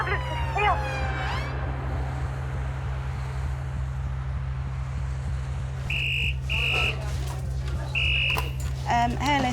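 A UK ambulance arrives for a collapsed 12-year-old girl. It opens with a wailing, sweeping siren, then a series of short electronic beeps, all over a steady low hum.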